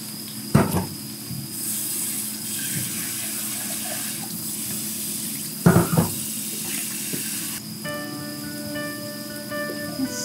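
Boiled udon noodles are rinsed under a running tap into a sink, a steady close hiss of water with a couple of sharp knocks from handling, with no talking.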